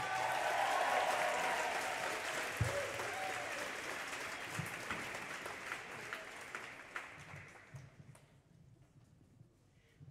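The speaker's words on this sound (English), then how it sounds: "So can we please have a huge round of applause for the wonderful Cecilia Knapp?" At a poetry slam final at the Roundhouse, a large audience applauds the poet Cecilia Knapp with a broad roar of clapping that holds strong, then thins into scattered claps and dies away.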